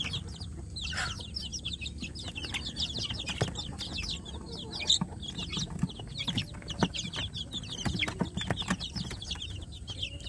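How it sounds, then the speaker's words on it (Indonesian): Native village chicks kept warm in a box chirp continuously, a dense flurry of high thin peeps overlapping one another at close range, with some low background rumble and knocks. "anak ayam kampung yang ada di dalam box ini"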